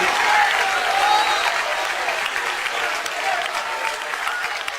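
A church congregation breaks into applause during a sermon, a broad, even wash of many hands clapping at once, moderately loud and sustained without pause.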